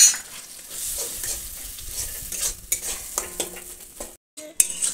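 Ground spice paste thinned with a little water fries in a pan while being stirred for a bottle gourd dish, giving a soft continuous sizzle broken by scraping strokes of the spoon against the pan, with no talking.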